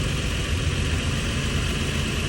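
A Toyota Highlander's engine idling just after start-up, a steady, continuous low rumble with a constant mechanical hum, close and unchanging, with no voices.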